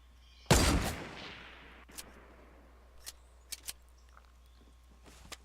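A Fortnite rocket launcher fires with one loud, sharp blast that decays quickly, followed by scattered faint gunshots and small clicks in an otherwise quiet scene.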